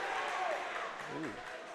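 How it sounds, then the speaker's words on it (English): The crowd at a high school wrestling all-star classic roars with a broad, steady wash of cheering that stays under a commentator's talk throughout. "Big roar from the crowd for Matt, too, over there"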